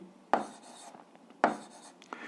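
Marker or pen writing numbers during an 8th-grade algebra lesson, quiet scratchy strokes with two sharper taps as each mark begins, close and alone with no talk.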